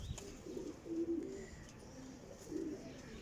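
Pigeons coo softly in a few low, rounded bursts, close but faint, against quiet background noise with no talking.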